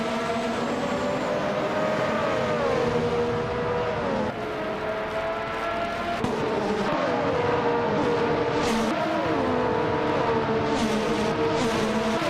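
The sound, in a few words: race cars driving in a racing video game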